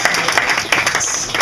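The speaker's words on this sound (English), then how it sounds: "So we want to give him a big round of applause, even though he's not here." An audience at an album premiere claps in a steady, dense burst of applause, fairly loud and continuous throughout with scattered sharper claps.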